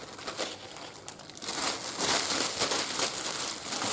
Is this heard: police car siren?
no